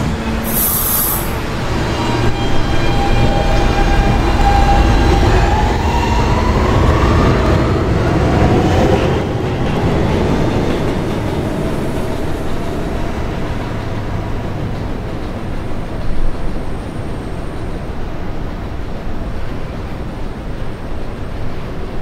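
A New York R subway train rumbles along the tracks with loud wheel squeals and a sustained roar that slowly fades, with no voices.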